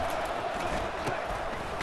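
Stadium crowd noise from EA Sports College Football 25, a steady broad roar of a game-day crowd during a Red Raiders vs Monarchs matchup, constant and moderately loud with a faint murmur of voices throughout.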